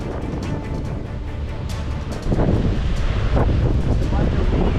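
Strong hurricane wind from Hurricane Milton roars outdoors, buffeting the microphone in a dense, continuous rush that grows louder about halfway through, with a faint rustle of leaves beneath.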